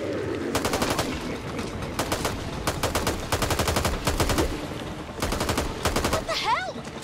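Rapid bursts of automatic gunfire rattle through a Back 4 Blood game battle, several loud, closely spaced volleys separated by brief pauses, with a short electronic chirp near the end.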